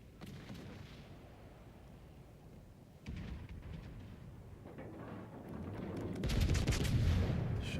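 Warship guns fire in a naval video game, heavy booming shots with rolling low rumble, a burst around three seconds and a louder salvo near the end.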